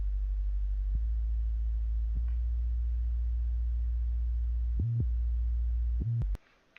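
A deep, sustained synth bass line plays isolated as one track of a hip-hop beat, steady low tones with brief note changes, cutting off near the end.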